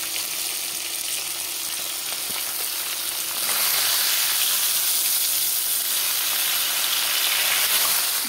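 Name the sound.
fish heads frying in oil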